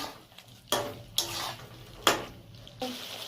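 Mixer-rinse water poured into a pan of cauliflower roast gravy, then stirred: a few short splashing pours and scraping stirs at close range, separated by quiet gaps, with no talking.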